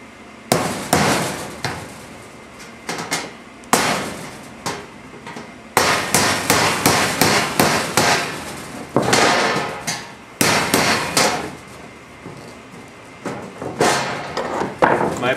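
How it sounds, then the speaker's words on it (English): A hammer drives a screwdriver against sheet metal to start a hole while building a modular rocket stove. Sharp, loud metallic strikes come in quick bursts of several blows, with short pauses between the bursts. "My personal preference is just to use a good old-fashioned screwdriver and hammer."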